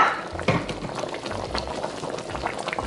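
Starch-thickened gravy with kale simmering in a pan, a close bubbling and popping of thick liquid with irregular blips and a soft low burble throughout.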